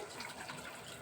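Water pours steadily into a pot, a soft continuous gushing with no voices.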